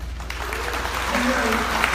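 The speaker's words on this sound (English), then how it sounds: "I think I want to say a big round of applause to everybody for coming out tonight." Audience applause at an evening gathering, a steady wash of clapping from a room of people, moderately loud, with voices faintly under it.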